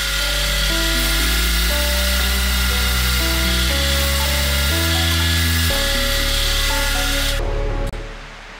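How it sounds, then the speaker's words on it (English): A drill bores steadily into cast iron at slow speed without lubricant, a loud whining grind whose pitch shifts in steps as the bit cuts, then winds down at the end. "We're drilling cast iron."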